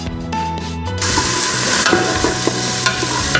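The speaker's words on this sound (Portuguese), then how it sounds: "refogar a nossa cebola" Onion sautéing and lightly frying in a pan as a stew of beef, ribs, calabresa sausage and chicken begins, a steady broadband sizzle that jumps louder after a second, with stirring scrapes and clinks on top, no talk.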